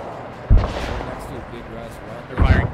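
Simulated T-72 tank cannon firing in an Arma 3 multiplayer airfield assault, two heavy booming shots about two seconds apart, the second followed by a rolling tail, with radio chatter and voices talking throughout.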